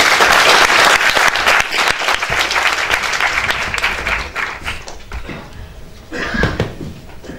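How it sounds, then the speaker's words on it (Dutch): A lecture audience gives warm applause for speaker Yehudi, loud dense clapping that thins out toward the end, with a few louder knocks near the close. "Ik wil gewoon een hartelijk applaus voor Yehudi"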